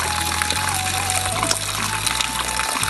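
Cold, crystal-clear stream water in Gulmi Purtighat, Nepal, is collected into a container as it runs, making a steady, close gushing rush with no letup for about three seconds.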